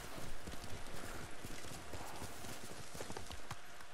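Horse hooves clip-clop steadily on the ground while riding in the samurai game Ghost of Tsushima, a close, rhythmic patter under a busy layer of game ambience, with a brief whinny-like touch.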